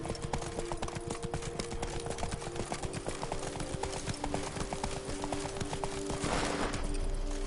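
The horse Roach gallops in a video game, with dense, rapid hoofbeats pounding steadily and close throughout, under background music and ambient game sound.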